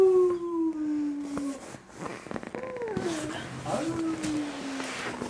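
A small child imitates a dog with a drawn-out, howl-like voice, two long falling cries near the microphone, separated by other voices and household noise.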